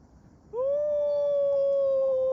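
After a quiet moment, a jackal lets out one drawn-out, clear howl that holds an even pitch for nearly two seconds. The call is heard alone with no other sounds.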